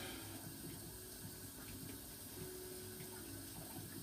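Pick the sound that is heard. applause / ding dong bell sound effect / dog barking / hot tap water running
hot tap water running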